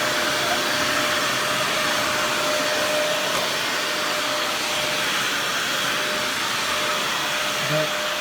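A Dyson DC41 upright vacuum cleaner with an air leak runs in a loud, steady whine with a faint thin tone over it, continuous and close with no talking.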